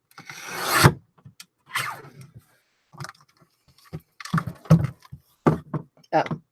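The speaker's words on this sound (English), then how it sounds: "We're going to just trim a sliver off the flap side." Paper flap being trimmed with a blade, a thin sliver cut away in a rasping, rubbing stroke, followed by short scrapes and handling noises close by.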